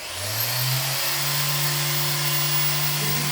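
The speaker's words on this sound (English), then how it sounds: "that's a 3000 grit electrical grinder" An electric grinder fitted with 3000-grit abrasive polishing the wood trim of a Mercedes W126, giving a steady, close, high-pitched whine that spins up over the first second and then holds an even tone.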